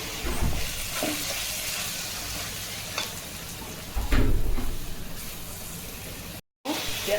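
Tomatoes tipped into a pan of sizzling fried onions while cooking crab thokku, a steady close frying hiss with stirring scrapes and a louder burst of sizzle partway through, then a brief cut.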